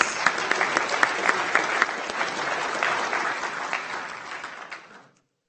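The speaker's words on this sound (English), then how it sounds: "Let's go ahead and give her a nice big round of applause." A meeting-hall audience at a county Board of Supervisors regular session applauds an honoree retiring after 30 years with the Human Services Agency. The clapping is dense and steady, with a few sharp claps standing out, then it fades and stops near the end.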